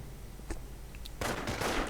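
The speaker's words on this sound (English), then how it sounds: "he got gunned down by the gunners right there" Machine gun fire crackles in a Company of Heroes match as infantry are cut down, with a faint burst early on followed by a loud, sustained rattle of rapid shots.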